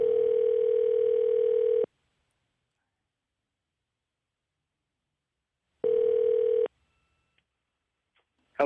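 Two bursts of a steady telephone ringback tone on a line calling a podcast fan, a long ring then a shorter one separated by silence, clear and close.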